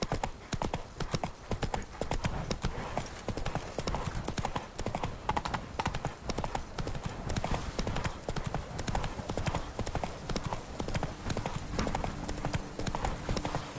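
Roach the horse's hooves in Witcher 3, a steady, brisk clip-clop gallop that continues clearly and evenly throughout, close and loud, with a faint whinny in the background.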